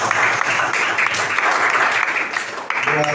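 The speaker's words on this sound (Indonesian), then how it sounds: "Mari kita berikan aplaus." A roomful of people claps warmly for a group's presentation, an even, sustained wash of applause that briefly dips near the end before swelling again.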